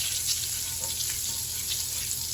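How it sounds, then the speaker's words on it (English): Butter melts and sizzles in a pot turned down very low, a steady, even hiss with faint crackles and no voices. "So let's get this butter melted."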